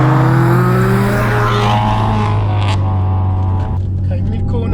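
A 450 whp big-turbo Subaru Outback XT wagon pulls hard out of a track corner, its engine droning loudly with rising pitch under boost, heard from inside the cabin, steady and sustained before easing slightly near the end.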